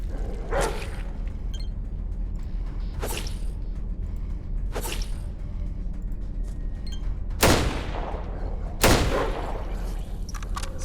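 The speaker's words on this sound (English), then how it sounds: "he shot twice there, no problem" Gunshots ring out in ATOM RPG turn-based combat, a handful of separate sharp cracks spaced a second or more apart over a steady low game background, with the last two loudest.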